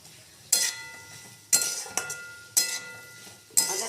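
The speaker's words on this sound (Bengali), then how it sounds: "আদাটাকে ভালো করে কষাতে হবে" Ginger being sautéed and stirred in a pan, with a spoon clinking against the pan in four sharp, evenly spaced strikes, each trailing off into a soft sizzle.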